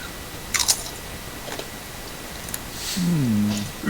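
A chip is bitten and crunched close to the mic, giving a few sharp crisp crackles spaced apart, followed by a short tonal squeak.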